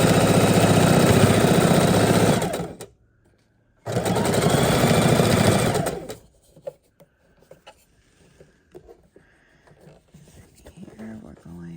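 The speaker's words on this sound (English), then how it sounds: "we just keep on sewing our blocks together" A sewing machine joins quilt blocks in two long, loud bursts of steady mechanical whirring, each about two seconds, with a brief pause between them and quieter handling noises afterward.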